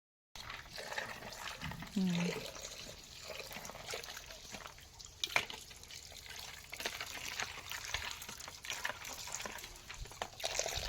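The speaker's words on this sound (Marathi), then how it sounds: "हे असे स्वच्छ पाण्याने व्यवस्थित बोंबील धुवून घ्यायचं" Bombil (Bombay duck) fish is washed in clean water under an outdoor tap, giving a faint, steady trickling and splashing with occasional louder sloshes.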